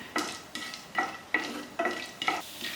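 Roasted gram is stirred in a hot pan for beetroot chammanthi, about six rhythmic scraping strokes at a steady pace over a faint sizzle, close and clear with no talking.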